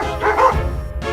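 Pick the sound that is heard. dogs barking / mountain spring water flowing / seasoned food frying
dogs barking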